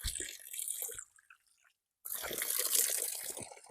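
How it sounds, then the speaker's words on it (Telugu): Natural water pours down from above in a forest near Zagreb, Croatia, a loud splashing rush that cuts out briefly to near silence before resuming strongly. "పై నుంచి వాటర్ వస్తున్నాయి"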